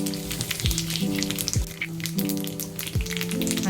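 Asafoetida sizzles and fries in hot oil for a Telugu dosakaya roti pachadi, a steady close crackle with faint popping and a low hum running underneath, no talk.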